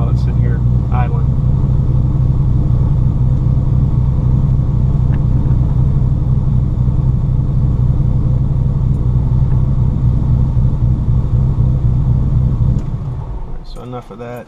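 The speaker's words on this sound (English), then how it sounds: "you may see the temps climb like a degree or two while it's sitting here idling." A Ford car engine idling at a steady low rumble, close and continuous, with a faint jingle early on before the hum drops away near the end.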